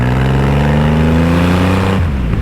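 A Triumph Rocket 3 motorcycle engine pulls hard on a highway, its loud, close drone climbing steadily in pitch before a sudden drop as it shifts gear, with wind rush throughout.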